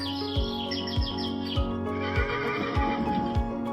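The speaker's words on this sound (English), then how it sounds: "Da, the horse." A horse whinnies in a high, quavering neigh near the start, set against a steady pulse of drum beats and droning music that carries on after the call fades.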